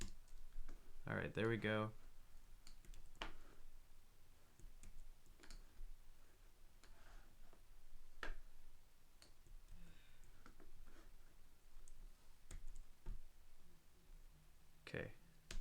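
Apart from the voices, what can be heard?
typing on a computer keyboard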